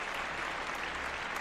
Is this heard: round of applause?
yes